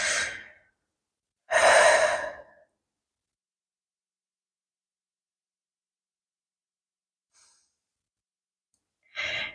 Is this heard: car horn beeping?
no